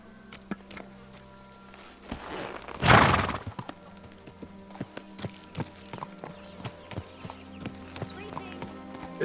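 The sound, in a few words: horse hooves clip-clop in video game Kingdom Come Deliverance 2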